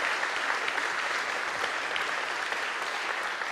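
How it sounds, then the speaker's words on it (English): An audience at a classical Christmas concert applauds the a cappella group's musical director with a thick, even wash of clapping, loud and unbroken throughout. "Give a huge round of applause"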